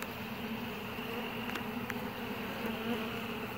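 Agitated honey bees swarming around a hive, a dense, continuous buzzing drone that stays loud and close without a break, with a few brief sharper sounds mixed in.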